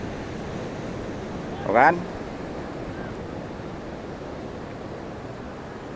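Steady wash of ocean waves on a beach in Sukabumi, West Java, a broad continuous roar with wind buffeting the microphone and a brief spoken word partway through.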